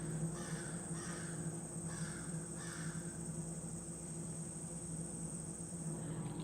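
Crows cawing outside: a few harsh caws in short clustered bursts early on, moderately distant over a steady hiss and low electrical hum, with no talking.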